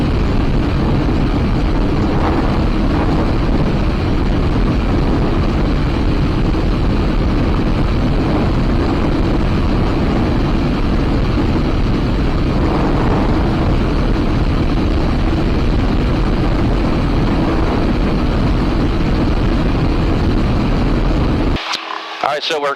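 Cessna 172 fitted with a Corsair V8 engine climbing after takeoff, a loud, steady engine roar with broadband wind rush filling the cabin throughout, cutting off abruptly near the end.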